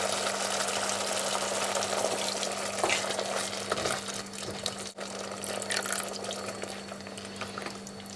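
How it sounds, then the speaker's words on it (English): Water is poured into simmering tomato sauce for white tuna, a continuous hiss and bubbling sizzle under a steady low hum, with stirring splashes and a brief dip midway. "so I'm going to add water."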